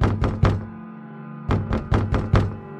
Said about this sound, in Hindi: अगली रात पढ़ाई शुरू करते ही कमरे का दरवाजा जोर जोर से बजना शुरू हो गया।